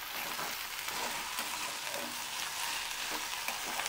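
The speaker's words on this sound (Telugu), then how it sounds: "సాల్ట్ వేసుకున్న తర్వాత ఒకసారి కలిపి పెట్టండి." Okra (lady's finger) frying in a pan with salt while being stirred, giving a steady, close hissing sizzle with faint scraping from the stirring throughout.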